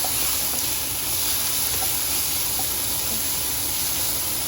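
Tomatoes frying in a pan until soft for a home-cooked cauliflower vegetable dish, a steady close sizzle and hiss with no talking.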